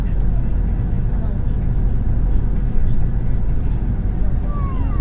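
City bus driving through Minsk, Belarus, northbound toward the airport: an even, deep interior rumble of engine and road noise that continues unbroken throughout.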